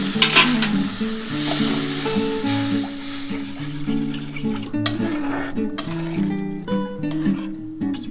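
Water goes into a pan of well-fried masala for a dhaba-style egg curry, setting off a steady loud sizzle with scraping stirs and clinks of utensil against the pan.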